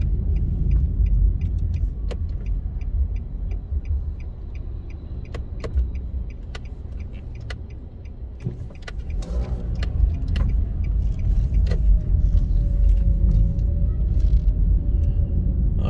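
Car cruising and making a right turn onto a residential road, with a steady low engine and road rumble throughout, a brief dip as it slows and turns, and scattered faint clicks and rattles from the cabin.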